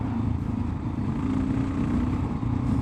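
Kawasaki KLR 650 motorcycle with a new exhaust header, its engine running steadily with a low rumbling drone and slight throttle swells, close and loud throughout without talk.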